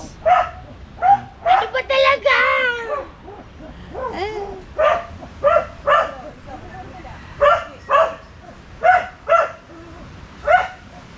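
A man imitates a dog, barking in quick repeated yips and woofs, close and loud, with a little talk mixed in at the start.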